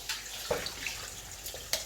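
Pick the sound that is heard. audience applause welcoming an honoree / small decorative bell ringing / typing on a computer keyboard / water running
water running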